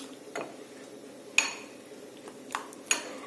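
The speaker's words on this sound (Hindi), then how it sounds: "अच्छे से इसको मैरिनेट कीजिए, मिक्स कीजिए आपस में।" Spoon stirring a besan marinade for paneer tikka in a bowl, a few sparse clinks and scrapes against the dish, close and fairly quiet.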